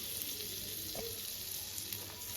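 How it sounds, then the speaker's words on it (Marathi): Continuous gentle sizzling of butter on a hot griddle as pav bread rolls heat, a steady frying hiss with one faint tap. "आपण तवा तापवला आणि बटर जरा टाकलं, त्याच्यात पाव गरम करायचं आहे आपल्याला"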